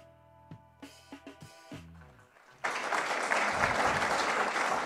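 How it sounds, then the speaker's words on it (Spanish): Audience applause breaks out suddenly as a loud, dense wash of clapping that continues steadily after a few scattered tones and taps. "Y los aplausos."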